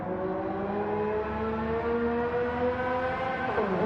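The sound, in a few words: race car engines in the video game Gran Turismo 7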